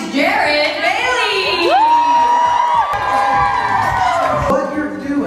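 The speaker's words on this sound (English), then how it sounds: "Give him a round of applause" A live audience welcomes a guest brow expert with loud, sustained cheering, whoops and high-pitched shouts, a crowd roaring continuously throughout.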